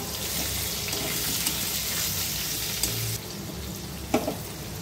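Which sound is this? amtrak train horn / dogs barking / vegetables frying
vegetables frying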